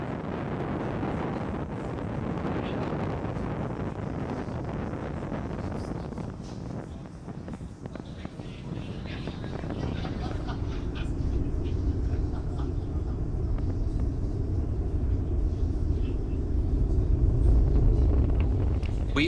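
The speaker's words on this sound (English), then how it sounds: "Falcon 9 has successfully lifted off from Launch Complex 39A, carrying our 53 Starlink satellites into space." A SpaceX Falcon 9 lifting off from Launch Complex 39A with Starlink satellites: a broad, steady roar and rumble that deepens and swells over time, heard far off with wind buffeting, under a commentator's voice.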